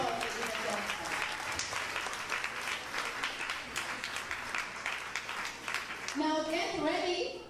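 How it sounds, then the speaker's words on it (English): Audience at a children's culture pageant applauding the judges, sustained dense clapping filling the room, with a voice and cheers emerging near the end. "Give our judges another round of applause."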